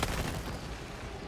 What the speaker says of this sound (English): Throwing grenade.